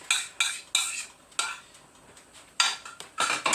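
A metal spoon scrapes seared oxtail bits from the bottom of an iron skillet in short, sharp, repeated strokes, close up, with no talking.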